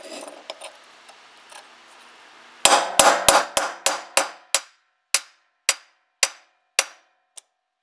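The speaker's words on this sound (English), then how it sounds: "and just hammer it." A rusty vice grip struck with a hammer during restoration: after a faint scraping start, a loud run of sharp metallic blows, quickening at first and then spacing out into slower single strikes close by, with no talking.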